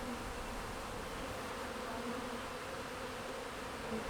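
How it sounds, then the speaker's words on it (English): A honeybee swarm clustered in a tree or bush makes a steady, dense buzz that stays even throughout, heard alone at a quiet level. "you see this clump of bees in a tree or in a bush or on the ground, and they festoon"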